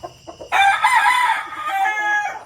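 A Super Brown Red gamefowl rooster crows loudly and close by, one long harmonic call held for about two seconds after a few soft clucks.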